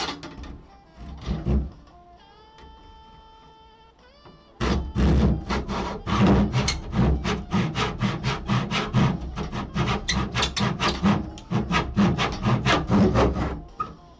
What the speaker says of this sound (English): But going to saw off this piece of trim right here.